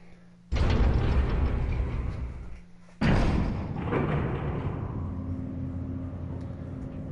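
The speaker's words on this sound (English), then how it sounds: "Barry will ride the elevator down with you" Heavy mechanical clunks start and stop the elevator in Resident Evil REmake, two loud thuds followed by a low rumbling hum as the car moves down, with no voices.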